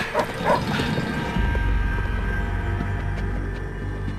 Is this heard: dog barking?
yes